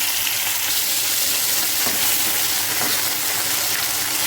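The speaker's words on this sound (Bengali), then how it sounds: "টমেটোটা একটু ভাজা ভাজা হয়ে আসুক" Chopped tomatoes hit hot oil with fried ginger in a pan for a vegetarian paneer dish, giving a loud, even, unbroken sizzle close up with faint stirring scrapes.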